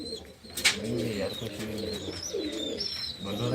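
Pigeons let loose on a rooftop coo and warble in low, throaty phrases at close range, with a sharp flutter-like burst early on and the calls running steadily to the end.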